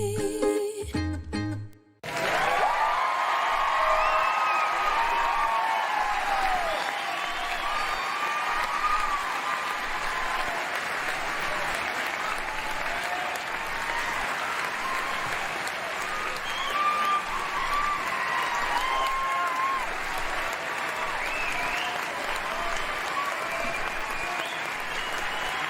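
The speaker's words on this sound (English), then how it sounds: "I don't know why Trinity is clapping." After a brief different sound at the start, a large group breaks into sustained clapping that rolls on evenly for over twenty seconds, full and fairly near, with a hint of crowd cheering mixed in.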